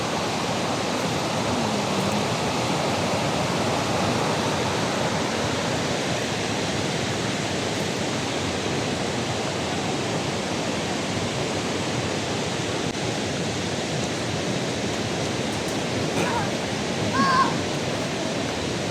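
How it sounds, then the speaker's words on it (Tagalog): A loud, constant rush of flowing stream water at Blausee, Switzerland, fills the whole stretch, broadband and steady, with a faint bird call near the end. "ang ingay ng lagaslas ng tubig"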